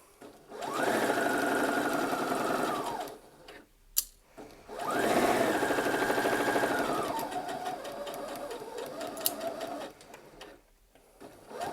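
A sewing machine runs in two long bursts while stitching pants, a tapered-leg trouser being sewn. Each burst is a close, steady rapid whir, separated by a short pause and a sharp click, with a lighter stretch of sewing near the end.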